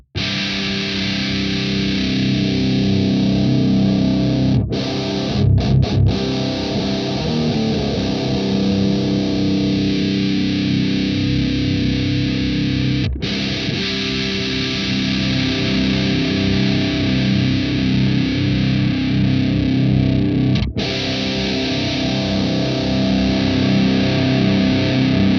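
Heavily distorted death metal guitar played through the This Heavy Earth Flesh Rot amp sim, a dense, loud, sustained wall of low riffing with a few brief stops and pick scrapes, no voices.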